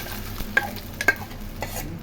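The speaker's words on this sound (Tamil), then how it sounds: "ஊற்றிட்டு நல்லா கிண்டி விட்டுக்கிட்டே வரலாம்." A spoon scrapes and stirs a thick ground sweet paste in a pan, with soft sizzling and a few sharp clinks against the metal, close and alone.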